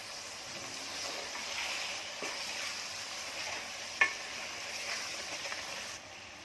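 Spices, ginger-garlic paste and potatoes frying together in a pan for Konkani-style prawn pulao. A steady close sizzle runs throughout, with soft stirring scrapes and one sharp utensil clack partway through. No talking.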